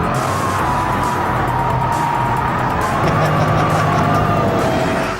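A Ford Shelby GT500 driven sideways in oversteer, its engine droning loud and steady with a rising and falling tone, near and continuous.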